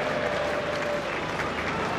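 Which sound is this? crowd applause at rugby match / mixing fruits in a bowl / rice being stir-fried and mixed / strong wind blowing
crowd applause at rugby match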